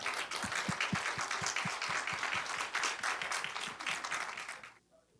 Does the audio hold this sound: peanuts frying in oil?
no